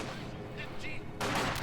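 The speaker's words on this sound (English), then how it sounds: "Grenadier squad is taking fire!" Battlefield gunfire in the Company of Heroes 2 strategy game: steady combat rumble, then a sudden loud burst of rapid shots near the end, with a commentator's voice partly heard.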